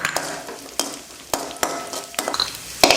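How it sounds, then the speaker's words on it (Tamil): Cashews and raisins fry in ghee for rava laddu, with a light sizzle broken by repeated sharp spoon scrapes and taps against the pan, roughly one every half second, and no voices. "முந்திரி வறுத்ததும் அடுத்து திராட்சை சேர்த்துக்கலாம்."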